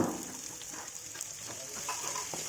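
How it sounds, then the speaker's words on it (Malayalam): Chopped onion and green chili fry in a pan for a Kerala mutton head curry, giving a steady, close sizzle with light crackles throughout and no voices. "അതൊന്ന് ഇളക്കുക നന്നായിട്ട് അതിനുശേഷം സവാളയും പച്ചമുളക് അരിഞ്ഞതും കൂടെ അതിലേക്ക് ചേർത്ത് കൊടുക്കുക"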